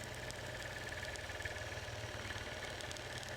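A quilting sewing machine stitches in manual mode while fabric is guided at an even pace, giving a continuous, faint, rapid motor whir with a steady needle-pulse rhythm throughout.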